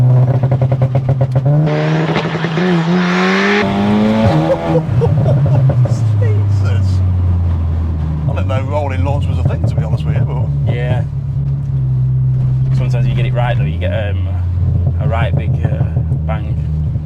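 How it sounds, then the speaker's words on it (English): Stage 3, 500 bhp Seat Leon Cupra R Mk3 doing a rolling launch: a loud engine drone surges and rises through the gears, with shift breaks and a strong roar, as people talk over it inside the car. "That's the rolling launch."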